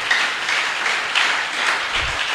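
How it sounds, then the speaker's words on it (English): A church congregation claps together during a sermon in a brief, steady burst of many hands, moderately loud and even, with no voices over it. "Clap for Jesus."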